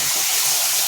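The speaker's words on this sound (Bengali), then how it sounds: "এরপর দেবো একটু জল" Water poured into a cooking pan, a steady close gushing splash that fills the whole brief moment without pause.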